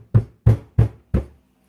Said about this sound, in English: You're going to tap your mold down a little bit to get rid of any bubbles.